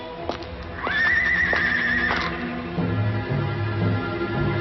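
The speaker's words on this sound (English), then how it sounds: "Shipmates! Horses!" Horses whinny loudly in a Treasure Island cartoon adventure scene, a long rising neigh followed by steady clip-clopping hooves close by, with no talk over them.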